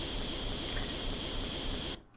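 A loud, steady hiss of a spray gun in the game Tank Mechanic Simulator runs continuously for about two seconds, then cuts off abruptly, leaving near quiet.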